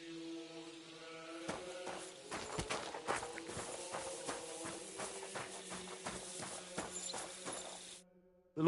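Hooves clip-clop at a steady walking pace from a horse in the video game Kingdom Come Deliverance 2 on PS5, close and fairly quiet over a soft musical bed, then stopping abruptly near the end.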